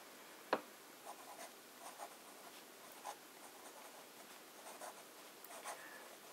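A fine-nibbed pen writes in Akkerman Chinatown Red ink on paper, producing a faint, quiet scratching with short strokes and small taps, one sharper tap near the start, all heard close up in an otherwise quiet room.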